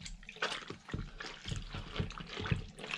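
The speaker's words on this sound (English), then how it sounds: "And then just dip it in here, and you can see that dirty water, dirty ass sink." Water sloshing in a dirty garage restroom sink as a Jeep Grand Cherokee SRT8's cold air intake filter is dipped and rotated, a steady close splashing and trickling without talk.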